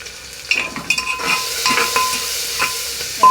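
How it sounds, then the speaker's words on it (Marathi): Green onion frying in a pan while being stirred, with soft sizzling under intermittent scraping and clinking of a utensil against the pan, close and fairly loud, several stirring strokes, no talk. "हलवते."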